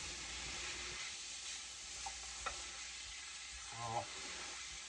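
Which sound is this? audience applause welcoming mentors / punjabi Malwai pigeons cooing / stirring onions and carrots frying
stirring onions and carrots frying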